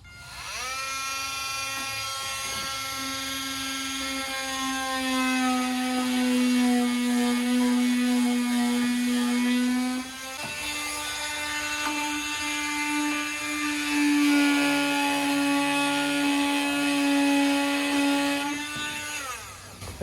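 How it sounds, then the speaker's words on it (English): Power tool whining loudly as it cuts a hole in a DeLorean time machine replica, a sustained high-pitched drill-like tone that shifts in pitch as the cut goes on, with a brief dip midway. "It's gonna be loud, so I'll probably have to skip ahead after I've cut the hole."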